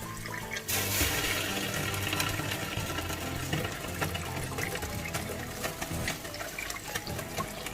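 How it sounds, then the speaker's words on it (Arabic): Hot water streams into a pot of Moroccan couscous with lamb, onion and tomato, a steady close pour that begins sharply and runs continuously alongside kitchen clatter. "هلا بنحط المي."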